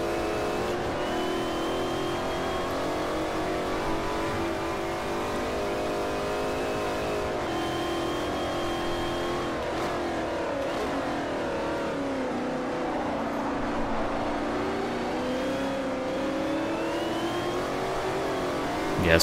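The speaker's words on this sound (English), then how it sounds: "Get that little Ferrari going." Ferrari race car engine in Forza Motorsport 4, revving loud and steady throughout, its pitch climbing and dropping through gear changes with a brief tire squeal, close and continuous.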